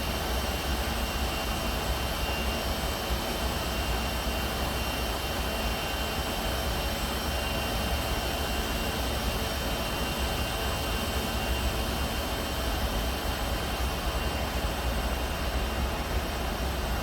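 Steady, loud roar of CRJ-200 jet engines climbing out after takeoff in the X-Plane 11 flight simulator, a continuous broadband rush with no talking.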